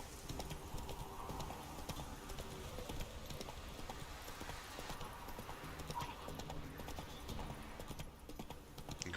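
Roach the horse in The Witcher 3: Wild Hunt, hooves clip-clopping in a steady rhythmic gait, with light ambient game sound underneath.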